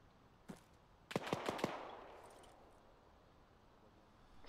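Gunfire in the military video game Arma 3, a single distant shot followed by a quick cluster of four sharp reports with a trailing echo, fairly faint overall, ending on another abrupt crack.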